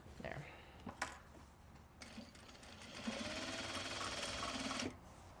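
A sewing machine stitches in a zipper, running in short bursts and then one longer steady whir, close by, with brief clicks and a little quiet talk in the room.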